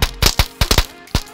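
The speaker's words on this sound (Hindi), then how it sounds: "इसमें भाई लिटरली ऐसा लगता है कि पटाखे चल रहे हैं, बहुत तेज आवाज आती है। इसमें आर्क्स बनते हैं बिजली के" Electric arcs from a Diwali decoration gadget crackle in sharp, loud bursts, several irregular snaps in quick succession like a string of firecrackers going off close by.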